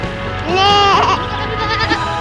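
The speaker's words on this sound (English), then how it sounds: "There's a goat." A pet goat gives one long wavering bleat, loud and close, followed by softer trailing bleat sounds.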